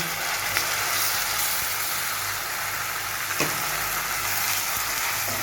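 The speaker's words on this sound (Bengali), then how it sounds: "আমি মশলাটাকে ভাজবো" Ground spice paste frying in a pan over a medium gas flame gives a continuous dense sizzle and crackle, fairly loud and even throughout, with a faint low rumble underneath.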